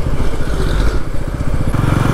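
Bajaj Pulsar NS400 400cc motorcycle engine under way on the road, a loud close steady pulsing drone with clattery rhythmic texture and no talk over it.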